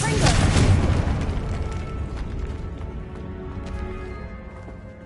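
A Confringo fire spell in the Hogwarts Legacy video game bursts with a loud booming blast at the start, its roar rolling on and slowly fading over the following seconds.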